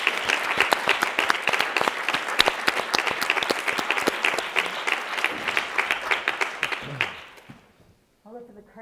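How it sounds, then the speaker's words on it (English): Sustained, dense applause from a bookshop audience after a talk, steady and close, fading out abruptly near the end before a brief voice. "please give these wonderful humans an applause"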